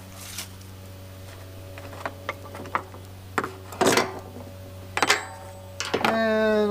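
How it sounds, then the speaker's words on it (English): Quarter-inch ratchet loosening a 7/16 bolt on the carburetor of a 1956 Johnson 5 1/2 hp outboard: scattered close clicks and short ratcheting bursts over a steady hum, with a person speaking near the end. "just a little 1/4 inch ratchet there"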